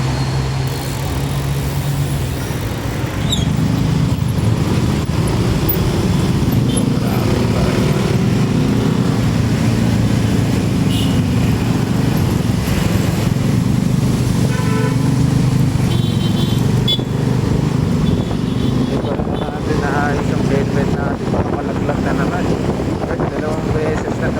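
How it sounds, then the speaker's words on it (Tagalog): Busy road traffic of cars and motorcycles on a Philippine evening ride, heard as a steady, loud engine rumble that continues without a break, with wind buffeting the microphone throughout. "traffic naman."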